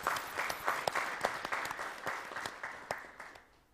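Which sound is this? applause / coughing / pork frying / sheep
applause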